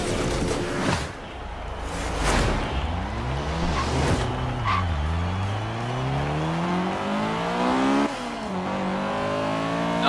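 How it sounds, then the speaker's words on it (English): A 2016 Honda Civic Type R VTEC engine in the Forza Horizon 3 racing game revs hard through repeated climbing gear pulls, each rising whine dropping at a shift, loud and continuous with brief tire noise. "Now that is a VTEC!"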